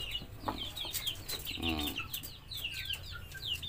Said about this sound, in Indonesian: Ini ayam yang saya piara.